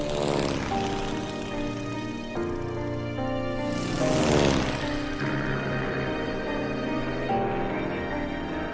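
A propeller airplane drones steadily overhead with a rich harmonic engine hum, swelling louder around the middle as it passes close, then settling back into a continuous flying tone.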